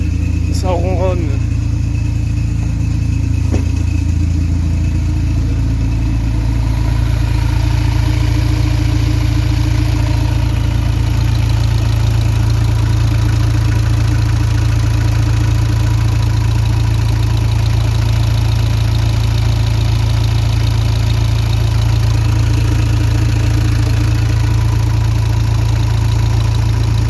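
Audi A4 B8 2.0 TDI diesel engine idling smoothly, a loud, steady low drone close by, with a brief knock or clatter near the start and no talk.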